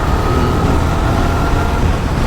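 Vehicles crowd a busy street in a loud, steady rumble of engines and road noise that fills the short stretch with no pauses and no voices.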